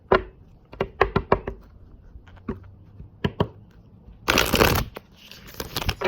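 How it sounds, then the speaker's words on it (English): Tarot cards being shuffled by hand, a run of soft slaps and riffles followed by a dense, brushy burst of cards sliding together, close and moderately loud with no talking. "one more shuffle."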